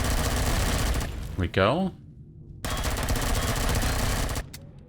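Sustained automatic gunfire rattles loudly in Empyrion Galactic Survival, broken by a short gap and a brief rising electronic tone before the shooting resumes; someone speaks a few words during it.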